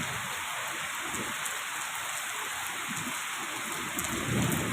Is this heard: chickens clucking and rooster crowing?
no